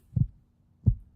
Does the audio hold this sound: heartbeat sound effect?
yes